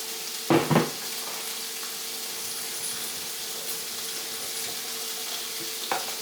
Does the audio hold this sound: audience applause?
no